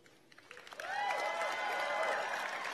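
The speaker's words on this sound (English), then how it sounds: "Please feel free to applaud early and often." Audience applause at a Tuck School of Business investiture ceremony, a soft patter of scattered claps that swells after the first second into steady, moderately distant clapping, with a voice calling out over it.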